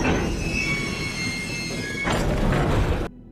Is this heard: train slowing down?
yes